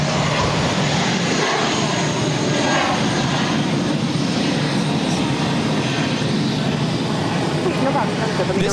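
A United Airlines Airbus A319 takes off from Boston Logan bound for Newark, a broad, steady jet roar filling the whole stretch; a voice can be heard faintly beneath the engine noise.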